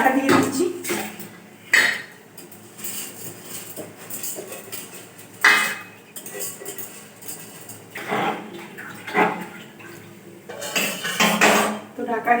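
Rice is poured into hot water in a metal cooking pot, giving clinks and scraping knocks of utensil against pot in a home kitchen, with several louder clanks spread through the clip.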